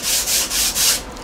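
A foam sanding block rubs over wood in four rhythmic back-and-forth strokes, a close, steady, hissing scrape with no talking.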